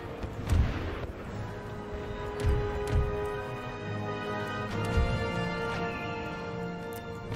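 Artillery fire on a town hall in the video game Empire Total War, several deep distant booms spaced a second or two apart over a steady battle drone, with no talking.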